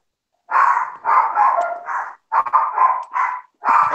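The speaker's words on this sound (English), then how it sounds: "is there any way you can stop your dogs barking?" Dogs barking indoors when a door is opened, a series of close, loud barks in quick clusters with short gaps between them, with no talking over them.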